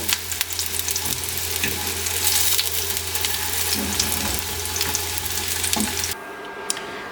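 Gola kebabs made from bread fry and brown in a pan. A close, steady sizzle carries crackles and occasional sharp pops, then drops to a quieter hiss near the end.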